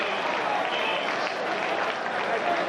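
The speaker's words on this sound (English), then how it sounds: "Now the crowd begins to stir again as here comes Mike Chrissy." A college football stadium crowd at a 1994 Rutgers versus Miami game murmurs and cheers in a dense, continuous roar, with a broadcaster's voice faintly under the noise.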